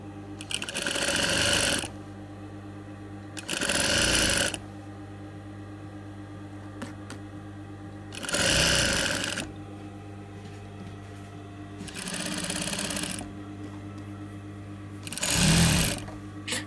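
Sewing machine stitching hair extension wefts, running in five loud bursts of a few seconds each, separated by pauses filled with a steady low hum, close by with no talk.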